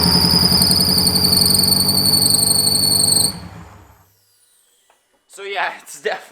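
A loud, steady high-pitched squeal from overtightened engine drive belts runs for about three seconds, then cuts off; after a short silence, voices talk.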